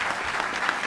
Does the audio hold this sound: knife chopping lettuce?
no